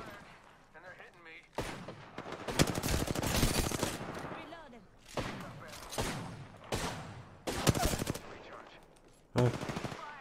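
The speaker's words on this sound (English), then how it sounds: "Shots fired, and they're hitting me." Automatic weapon fire in the video game Apex Legends crackles in several loud, rapid bursts separated by brief lulls, each burst a dense string of sharp shots, with voices heard between them.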